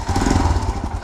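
Royal Enfield Himalayan motorcycle engine running with a steady, loud low rumble close by, a continuous throbbing idle throughout the second.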